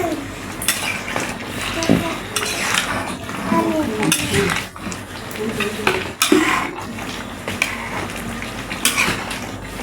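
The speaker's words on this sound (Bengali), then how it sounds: "একটু ভালো করে নেড়ে চেড়ে দিচ্ছি।" Potato and chicken skin curry bubbles in a pot while a spoon stirs and scrapes it, clanking against the metal in irregular bursts over a low simmer.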